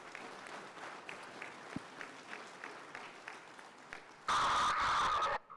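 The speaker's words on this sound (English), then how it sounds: "If we can give a round of applause to Dr." Sparse, light clapping from a modest town hall audience, with scattered individual claps at a low level, then a sudden loud burst of harsh tonal noise near the end that drowns it out.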